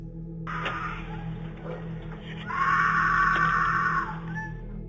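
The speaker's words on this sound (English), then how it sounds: "a sudden, piercing scream breaks the quiet of the night" A woman's high, piercing scream rises out of a quiet night background, starting briefly and then swelling louder and more sustained before cutting off, as picked up by a doorbell camera.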